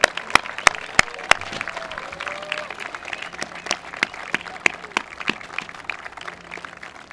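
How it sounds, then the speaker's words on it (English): Applause for the graduating class of 2024 at a Brewster Academy commencement, a thin spread of claps with sharp individual hand claps standing out, moderately distant and steady throughout. "How about a big round of applause for the class of 2024?"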